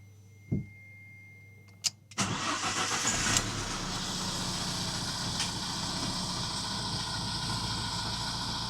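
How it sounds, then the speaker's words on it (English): A used car bought from an online marketplace cranks and starts, then settles into a steady, noisy idle with a continuous broadband rumble, preceded by a couple of brief clicks. "And now that I've started up and let it idle, it does sound quite noisy."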